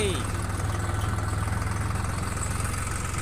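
A tractor engine idles with a low, steady chugging pulse, close by and continuous throughout.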